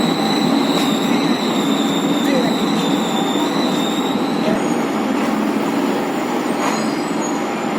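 An EMU local suburban train runs from Avadi toward Chennai Central, with a steady, loud rumble of the carriage and faint high squeals, continuous throughout with no talk.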